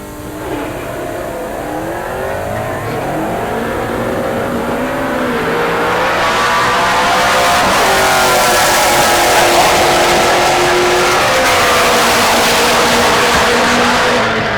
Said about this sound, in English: Brock Reedy, the Subaru in the left lane.